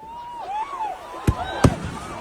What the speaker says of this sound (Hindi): ये देखिए एक के बाद एक पटाखे फटने लगे और वहां पर आग लग गई